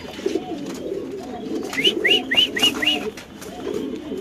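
A pigeon at a Dhaka pigeon farm gives a run of four or five clear rising coos near the middle, over a murmuring background of other birds and soft farm ambience, with no talking.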